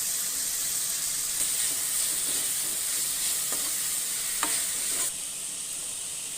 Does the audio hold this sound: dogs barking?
no